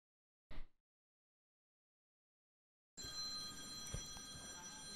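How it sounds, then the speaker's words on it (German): A phone rings indoors, a steady electronic ring that starts partway through and carries on to the end after a short earlier sound, with no talk over it. "Jetzt klingt hier auch noch mein Telefon."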